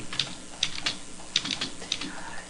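Keys clattering on a computer keyboard as a short command is typed into AutoCAD while drawing an electrical project, five or six distinct close taps spread unevenly over a couple of seconds.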